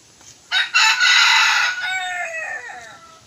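A wild labuyo rooster crows loudly and close, one full cock-a-doodle-doo with a long trailing end, with no other sounds.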